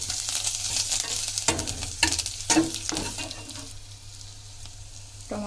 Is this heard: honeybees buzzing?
no